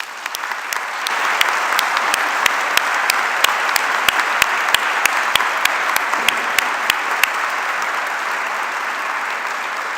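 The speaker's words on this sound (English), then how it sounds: "So please join me in a round of applause." Sustained applause fills a hall at a 2021 professional commencement ceremony. A large crowd claps loudly and continuously, and sharp rhythmic claps from nearby hands punctuate the steady roar for about ten seconds.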